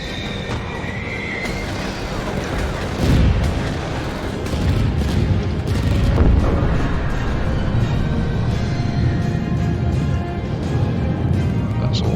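Plasma cannon blasts in the mecha combat game Mecha Knights: Nightmare, with heavy booming bursts rising out of a dense, continuous battle din of rumbling effects.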